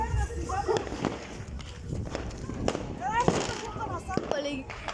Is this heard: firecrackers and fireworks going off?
yes